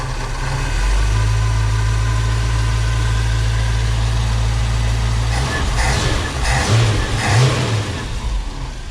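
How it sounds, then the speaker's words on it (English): A V8 farm truck engine runs steadily up close and then rises in a few brief revving surges toward the end, loud and alone with no talk over it. "If I bring the speed up a little bit."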